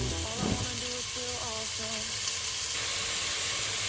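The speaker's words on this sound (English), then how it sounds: "just let that brown for a bit" Food browns in a pan for spicy chili beans with a steady, dense sizzle. A voice speaks briefly over it at the start.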